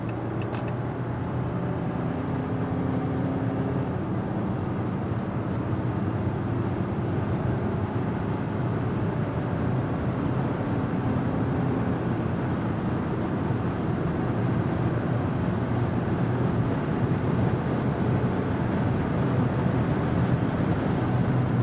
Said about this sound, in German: Jetzt mal hier von 75 hochbeschleunigen, Vollgas ist das jetzt.